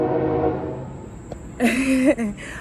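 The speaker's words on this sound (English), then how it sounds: "now that the train is gone" A train rumbles past with a low roar that fades, then a loud, bending horn blares for about a second before cutting off.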